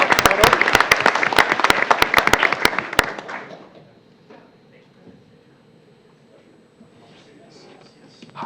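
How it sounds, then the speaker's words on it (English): Clapping at a high school board meeting, a few seconds of scattered hand claps with sharp individual strikes that quickly fade into quiet room noise and faint murmuring. "Round of applause for his family as well"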